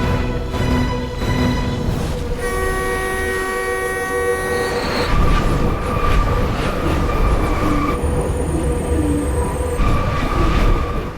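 A train rumbles through a tunnel with a steady clatter and a long, sustained horn blast, the sound broad and echoing as it passes close.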